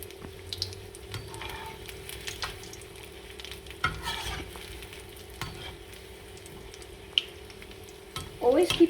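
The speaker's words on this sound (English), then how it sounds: "after that we'll fry it again to make it more crispy" Veg Manchurian balls deep fry in oil on a medium flame, a soft steady bubbling sizzle with occasional faint clinks, quiet and close, louder spatters near the end, with no talking.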